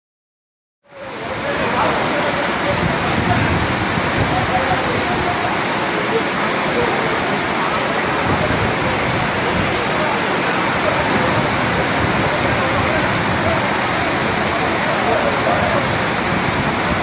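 Heavy rain floods the Tiruchendur Murugan temple, a loud, unbroken wash of pouring and rushing water that starts abruptly and holds steady throughout.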